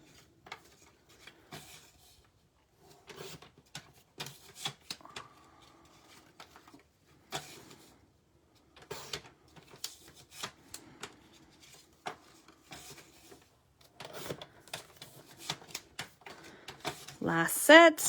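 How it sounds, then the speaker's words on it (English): Designer paper pieces being slid into a trimmer and cut at 4 inches, with sharp intermittent clicks, taps and slicing strokes over quiet gaps, growing busier and louder toward the end, with a voice heard briefly. "So I'm going to slide these in and I'm going to cut at 4 inches."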